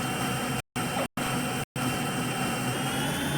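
Boeing 777 jet engines roar at takeoff in the Real Flight Simulator game, a steady, dense broadband rush broken by three brief cuts to silence.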